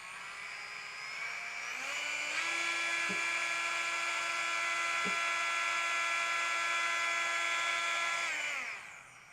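A small handheld rotary tool motor spins up to a steady high-pitched whine, holds it with a couple of faint clicks midway, then winds down near the end; no voices.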